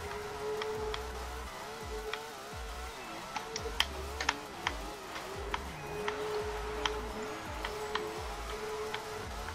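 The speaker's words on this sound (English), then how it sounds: "You'll probably just hear my controller" Game controller buttons click during Forza Horizon 4 drifting, with a scatter of small sharp ticks at an uneven rhythm over a low, buzzing engine drone.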